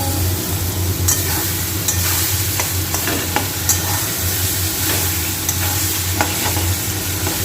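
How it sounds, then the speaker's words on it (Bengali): Onions frying in a pan while being stirred for a banana-flower dish, with a steady close sizzle and a scatter of sharp scraping clicks from the spoon throughout. "দেখো পেঁয়াজগুলো ভাজা হয়ে গেছে।"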